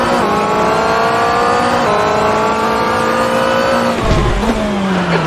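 A Porsche 963 LMDh hypercar screams loudly in Assetto Corsa, its engine note holding high before dropping sharply under braking, with a brief rough tyre scrub as the wheels lock, then rising again.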